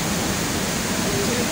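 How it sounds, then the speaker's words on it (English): Steady, loud rushing water with a hiss like a fast river or waterfall, continuous and close, at a geothermal power plant in Africa. "There's so much noise from the water, it's like a river."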